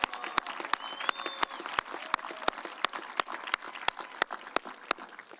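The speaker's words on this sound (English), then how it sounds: "give yourselves a round of applause" Graduates at a college commencement ceremony clap, with sharp, regular individual claps standing out against a thinner wash of scattered applause, like a few nearby hands among a sparse crowd.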